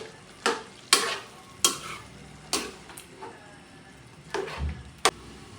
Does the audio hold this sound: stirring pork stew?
yes